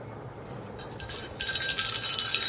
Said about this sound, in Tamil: ஸ்மைலி ரேட்டில்